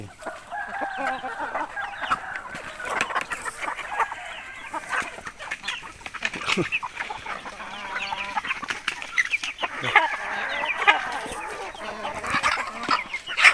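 Chickens raised in a garden cluck and chatter continuously at moderate distance, with rooster crowing rising above the flock at times.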